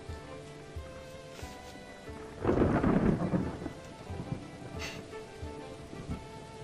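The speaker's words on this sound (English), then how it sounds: "Oh, it's raining." Rain and a heavy roll of thunder outside during a Dwarf Fortress game, the thunder swelling loudly around the middle and fading into steady rainfall with a faint later rumble.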